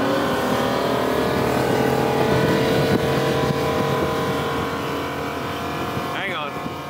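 A Bennington QX28 boat powered by a Yamaha 425 XTO outboard, just off an all-out run at 5,800 RPM, roars in a steady loud drone that slowly eases. A brief rising whistle comes near the end.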